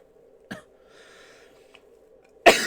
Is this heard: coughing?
yes